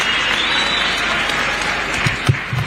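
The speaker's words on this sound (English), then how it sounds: "another round of applause" Loud, dense applause from a large crowd at a university convocation ceremony in Zambia fills the room steadily, with a few sharper claps standing out toward the end.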